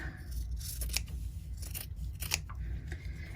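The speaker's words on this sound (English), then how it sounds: "Now you want to go ahead and trim off any of your little extra fuzzies that you might have." Scissors snip away stray threads on a folded triangle fabric coaster, a few crisp close cuts spaced irregularly over a quiet background.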